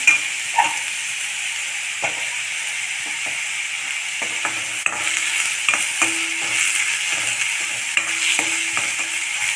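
Onions and cumin frying in a pan for jeera rice, a steady soft sizzle under repeated scraping stirs of a spoon, close and continuous with no voices.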